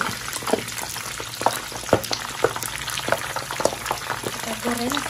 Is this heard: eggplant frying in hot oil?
yes